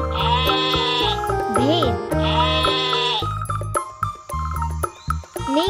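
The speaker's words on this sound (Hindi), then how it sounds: "शीप भेड़" Sheep bleating loudly in two long, wavering calls, then a few shorter bleats and bursts, close and clear over a background of music.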